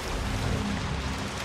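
Steady rain falls in the video game Hunt: Showdown, a dense, even hiss of drops on surfaces with a low rumbling undertone, constant and fairly loud throughout with no voices.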